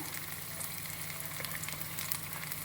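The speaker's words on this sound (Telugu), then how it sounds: "అలాగే అవి వేగుతున్నట్లే ఆయన ఆనియన్ వేసేయాలండి" Chopped onions frying in hot oil for Rayalaseema uggani, giving a faint, steady sizzling hiss with small crackling pops throughout.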